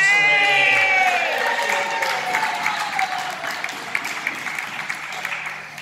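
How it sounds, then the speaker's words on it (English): Guests at a 30th birthday party clapping and cheering, a dense burst of applause with a voice and whoops over it at first, fading slightly but continuing throughout. "Give her a round of applause"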